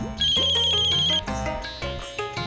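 An electronic phone ringtone plays a bright, looping melody, loud and close, with no talking over it.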